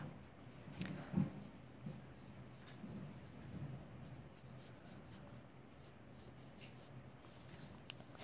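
Pencil drawing on paper, sketching a polar bear's neck, soft close scratchy strokes in short bursts with a few louder scrapes early, quiet overall.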